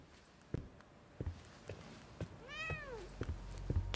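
A single drawn-out meow from a cat in the video game The Medium, heard between scattered soft footsteps in a quiet interior.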